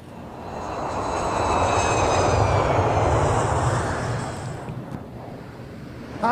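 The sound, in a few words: airplane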